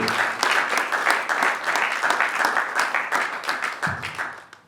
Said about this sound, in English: please, a warm round of applause for all of